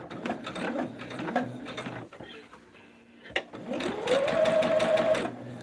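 Sewing machine basting a quilted table topper, running in fast mechanical bursts with a short pause midway, then stitching again, close and moderately loud, with no voices.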